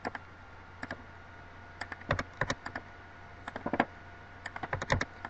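Sharp, dry mouse clicks come in scattered clusters at close range over a faint steady hum, with no talking.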